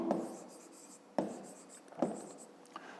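Writing out a maths solution for a fifth-grade cube problem by hand, with steady soft scratching strokes broken by a few sharper taps, close and quiet, with no talk.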